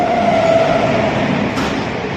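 Howrah to Bangalore passenger train rolling past, a steady loud rumble of wheels and carriages with a faint tonal squeal early on, continuous throughout with no talking.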